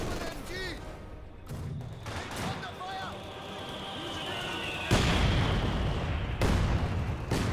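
Machine-gun and artillery fire rattle through a Company of Heroes 2 battle, with repeated bursts and booms that swell louder near the end. A commentator talks over the sustained combat noise.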